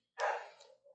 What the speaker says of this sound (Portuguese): Desculpa o barulho de cachorro